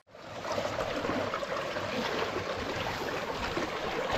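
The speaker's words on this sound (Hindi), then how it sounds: "ऊपर से पानी आ रहा है" Steady rushing water runs down from upstream in a village stream used for catching fish, a continuous close wash with no voices.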